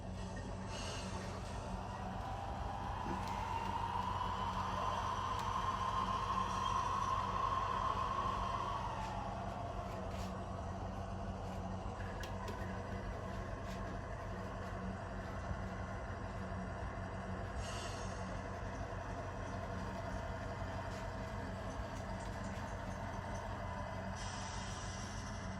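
Athearn Genesis GE CW44AH model diesel locomotive with Tsunami 2 DCC sound, its engine throttling up into a steady rumbling drone with a rising whine, continuous and close, with a brief hiss partway through.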